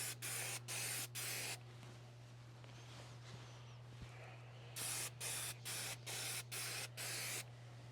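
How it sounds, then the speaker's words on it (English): Aerosol spray adhesive hissing onto insulation panels inside a 2023 Ford Transit van build, two sets of short, close, steady bursts separated by a quiet pause, over a constant low electrical hum. "So we're just going to spray both of our surfaces."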